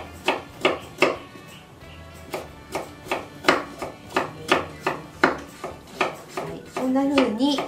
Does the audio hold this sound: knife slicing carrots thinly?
yes